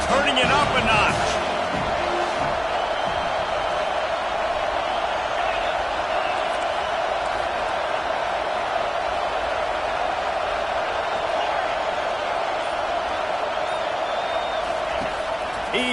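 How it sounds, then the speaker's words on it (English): A football game crowd roars and cheers in a sustained wall of noise for the whole stretch, loud and constant with a commentator talking over it. "this crowd is turning it up a notch"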